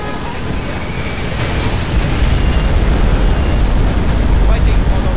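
A nuclear missile strike in Command and Conquer Generals Zero Hour, a loud, sustained roaring blast that swells after about two seconds and keeps rumbling, with in-game unit voices talking over it.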